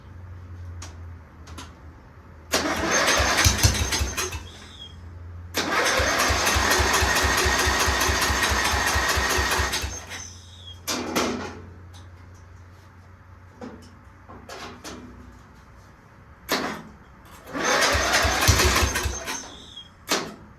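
A hand-built mini Jeep engine fires up on starting fluid after sitting idle a long time, catching in several loud, close bursts of rough chugging running that die out between attempts, with quieter gaps in between.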